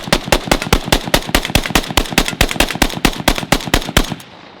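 Rapid semi-automatic fire from a Zastava N-PAP DF Yugo underfolder AK rifle, around twenty loud, close shots in a steady quick rhythm, ending with fading echo.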